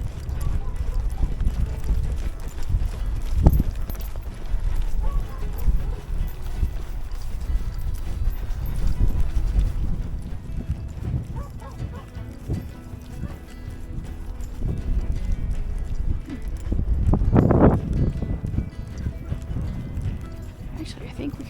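A horse trots along a trail with a steady, close clip-clop of hooves under continuous talk from the rider, with a couple of louder thumps standing out.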